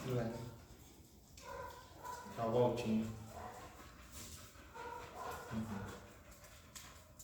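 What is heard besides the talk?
dog that wandered into a classroom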